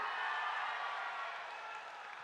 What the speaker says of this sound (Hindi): प्रताप राव पाटिल जी के लिए जोर से ताली बजाइए सभी लोग